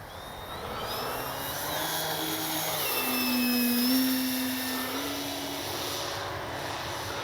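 Flex Aviator 40E electric RC airplane cruising overhead in sport mode, a steady whining motor and propeller drone that swells and pitches up as it passes nearer, then settles back, with no talk.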